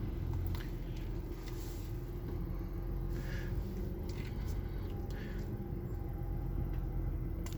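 A steady low engine rumble from a 2008 Lincoln MKZ idling in a garage runs throughout, even and continuous, heard from nearby in an enclosed space.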